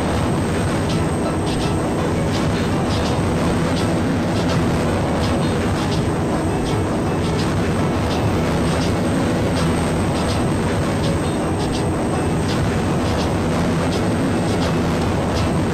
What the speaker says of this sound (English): I'm going to kill my afterburner and hit my second target.